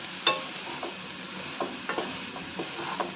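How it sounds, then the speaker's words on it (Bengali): Grated coconut filling is stirred in a pan with date palm jaggery, a soft sizzle running under a scattering of faint scrapes and taps from the spoon. "খুব ভালো করে নাড়িয়ে চাড়িয়ে মিশিয়ে নেওয়া হচ্ছে"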